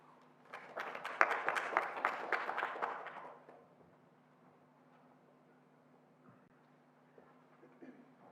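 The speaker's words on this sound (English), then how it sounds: "Let's give him another round of applause." A crowd applauds for about three seconds, a dense burst of clapping that quickly fades into quiet room noise.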